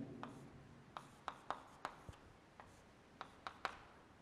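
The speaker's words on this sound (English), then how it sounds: "Let me write it here." Pen or marker writing on a board during a chemistry lesson, a quiet series of short scratchy taps and strokes spaced irregularly over a faint background, with no talking.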